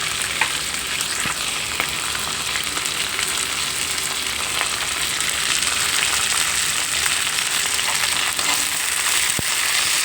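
Whole spices — cinnamon, star anise, cloves, marathi moggu and green and black cardamom — fry in hot oil for a carrot rice tempering, a steady, close sizzle with occasional stirring scrapes and no voices.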